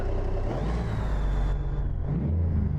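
Steady low diesel drone of an FLX 359 truck engine in American Truck Simulator, heard from inside the cab with a faint whine and an air hiss partway through.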